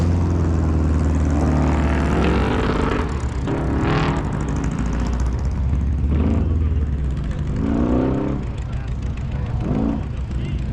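A Mazda Miata race car in a budget-class competition event drives past, its engine a steady loud drone with rising and falling passes, under continuous commentary from a speaking voice.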